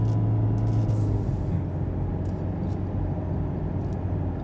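A Toyota Prius 4 hybrid car pulls away under gentle acceleration, heard from inside as a soft, steady low hum and road rumble with a faint whine, quiet and even throughout.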